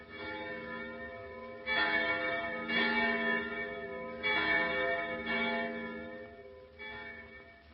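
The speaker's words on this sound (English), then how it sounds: "The sounds of those church bells make me feel like praying." Church bells in an old-time radio drama peal in several slow, resonant strokes, each ringing tone swelling and decaying into the next at moderate distance, with no voices over them.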